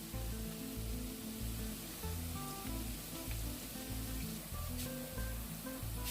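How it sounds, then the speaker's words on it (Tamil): Pieces of eggplant fry in hot oil with a dense, continuous sizzle and crackle, close and steady throughout with no voices. "இந்த கத்திரிக்காயும் கொஞ்சம் பொரியட்டும்."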